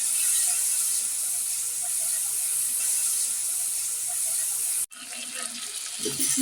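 Water added to spices cooking in a pan with cinnamon and cardamom brings a loud, steady steamy hiss, then a brief drop and a rougher sizzle with faint clatter; no one speaks.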